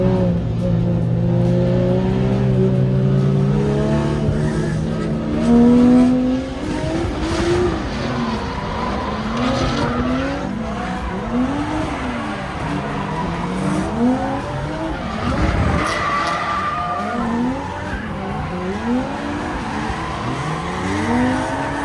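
Drift cars chase each other at Drift Matsuri, engines revving hard and tires squealing and skidding in repeated wavering swoops, loud and continuous over roughly twenty seconds.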